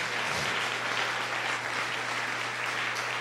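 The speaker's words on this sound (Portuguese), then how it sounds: "dá uma salva de palmas para Jesus." A church congregation applauding, dense steady clapping from many hands sustained throughout, with a low hum underneath and no clear speech.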